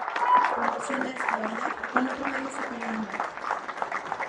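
Applause for a graduate at a professional degree ceremony, a steady spread of clapping from an audience running under an announcer's voice throughout.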